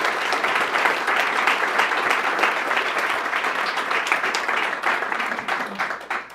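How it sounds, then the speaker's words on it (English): An audience at a health care innovation event in Ontario breaks into sustained applause, dense and steady clapping from a full room that holds for several seconds before starting to thin out at the end. "So big round of applause for that"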